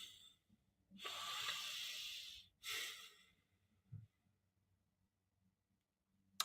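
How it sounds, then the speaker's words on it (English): A person takes two deep, close breaths through a quiet room, a long inhale followed by a shorter exhale, then a soft nasal sound. "So let's get a little breath."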